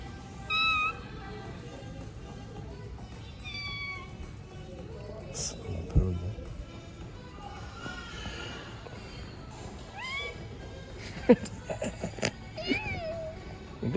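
A voice repeatedly imitates a cat's meow, several drawn-out mews spread across the clip, with a few knocks and brief speech between them.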